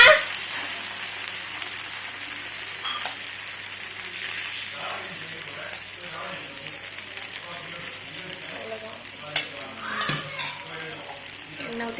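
Rava dosa batter poured onto a hot pan, a soft steady sizzle with a few sharp clinks of utensils, while a voice talks faintly over it.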